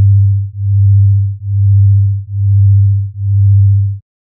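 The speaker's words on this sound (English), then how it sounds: "This is what a beating signal sounds like." Two summed sine waves form a low, steady hum that swells and fades in a regular beat, dropping nearly to silence about every 0.9 seconds, five pulses in all, then cutting off.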